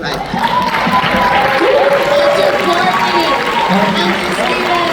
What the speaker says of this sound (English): So please, a round of applause to Diana.